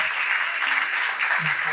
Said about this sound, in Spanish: Fuerte aplauso para Pri.